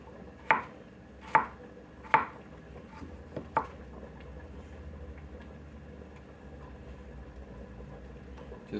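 A knife chops through vegetable tip ends on a cutting board with a few sharp, distinct knocks, three strong then two lighter, followed by a quiet stretch and one last faint tap.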